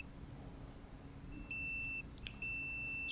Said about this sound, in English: can you hear it when you make continuity? It beeps, stops for a while, and then beeps, and then latches.